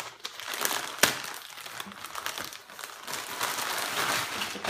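Plastic packaging from a newly bought Lidl household item, a decorative rose-patterned piece, is crinkled and torn open close up in continuous irregular rustles with a sharp crackle near the start.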